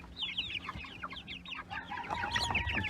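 Chickens clucking and chattering together in a backyard coop, a steady overlapping flock of close, busy calls with one longer drawn-out cackle near the end, no talking.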